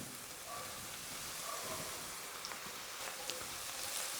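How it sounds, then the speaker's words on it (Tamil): Crushed garlic cloves, about fifteen, drop into hot oil with softening onions for a garlic pepper chicken gravy. A faint, steady sizzle and hiss runs throughout, with no voices. "வெங்காயம் வதங்கிட்டு இருக்கும்போதே பார்த்தீங்கன்னா ஒரு பதினஞ்சு பூண்டு பல் நல்லா நச்சு வச்சுருக்கேன் அதை இப்போ இதில் சேர்த்துக்கிறேன்"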